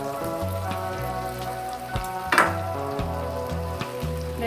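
Malabar spinach stems go into a pan of fried onions and spices and hiss steadily. The sizzle runs throughout under a louder layer of background music, with a brief brighter crackle near the middle.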